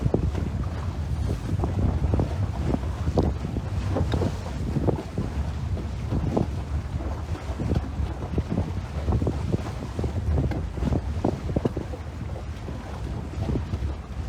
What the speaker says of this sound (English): the wind's dying down a little bit now